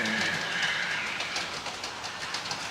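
An On30 scale model train locomotive runs along its track with a steady rolling rumble and light rhythmic clicking of wheels over rail joints, continuous and close with no talking.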